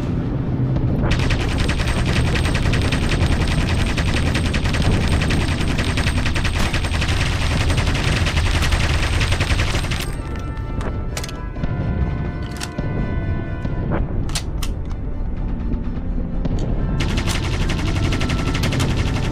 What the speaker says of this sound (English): it was just two light machine guns bolted to a platform